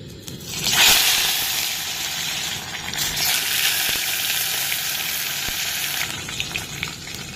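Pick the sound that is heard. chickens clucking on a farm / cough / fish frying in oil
fish frying in oil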